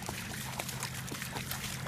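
A dog laps water on an outdoor walk, a close, steady wet trickling and slurping running throughout over a low hum, with no talk.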